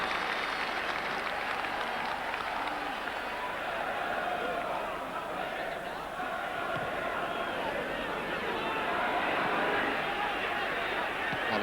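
Football crowd at a Bradford City v Everton FA Cup fourth-round match, a steady wash of distant cheering, chanting and murmur filling the stadium throughout, with a commentator speaking over it.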